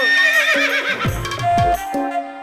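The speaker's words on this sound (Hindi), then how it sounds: "देखो वहाँ देखो सर, घोड़ा सर आ रहे हैं" Horses arriving in an Indian village scene of a Hindi action drama whinny loudly several times in a row, with faint hoof clops under the neighs.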